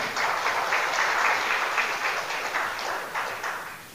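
An audience bursts into steady applause, many hands clapping in a dense, even rattle heard from a moderate distance, holding for several seconds before beginning to thin slightly.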